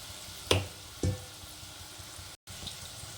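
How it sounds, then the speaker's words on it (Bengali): Banana fritters fry gently in oil in a village kitchen, a soft, low sizzle broken by a couple of sharp clicks and a brief dropout, heard close and faint without any voice. "আর সুন্দর করে ভাজতে হবে লাল লাল করে"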